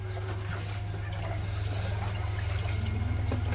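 Water poured and splashing onto a pile of bricks to soak them in a village on a cold winter day, a steady continuous rush and trickle with a low pump-like hum beneath, no talk.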